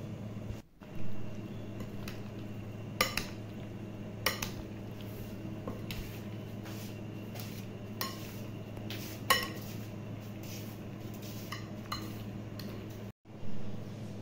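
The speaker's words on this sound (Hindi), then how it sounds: "अब इसमें ये केला जो है वो शामिल करेंगे। और इसको हल्के हाथ से मिक्स कर लेंगे।" Banana being gently mixed into fruit chaat in a bowl, giving soft scattered clinks and scrapes of a spoon against the dish over a quiet steady background hum, close and fairly faint.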